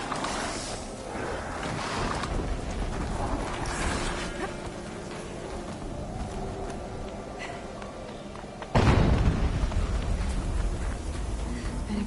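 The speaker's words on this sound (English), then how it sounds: "An explosion." An explosion in Horizon Zero Dawn hits late, a sudden deep booming burst that breaks through a low rumbling game ambience and leaves a rolling roar behind.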